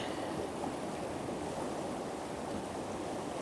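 Strong ocean water surges in and out along a shoreline while gold is panned, a loud, continuous rushing wash with no voices over it.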